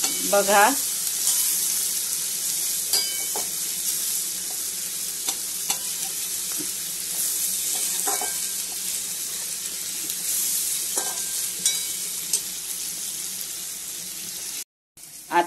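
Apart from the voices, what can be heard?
stir-frying carrots, peas, cabbage and capsicum in a pan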